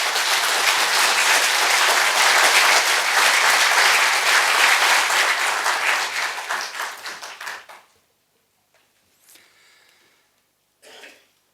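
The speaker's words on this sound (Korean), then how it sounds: "큰 박수로 문 전 대표님을 맞이해 주시기 바랍니다" A forum audience greets a keynote speaker with loud, dense applause that thins out and fades over a few seconds, followed by near-silence and a cough.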